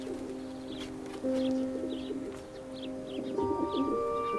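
Pigeons coo in soft repeated calls with light chirps mixed in, heard over a steady low hum with sustained tones in the background.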